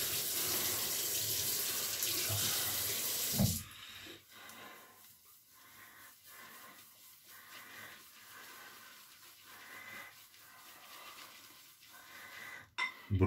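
Water runs from a tap during a wet shave: a loud, steady hiss of flowing water for the first few seconds, then it stops abruptly, leaving quiet room sounds with faint scraping.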